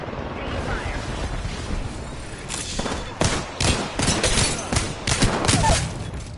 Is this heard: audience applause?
no